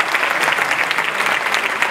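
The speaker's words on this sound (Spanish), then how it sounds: "Un aplauso para los padres de familia, por favor" A crowd claps for parents at a folk dance company's 40th anniversary show, loud close applause with a quick, even patter throughout.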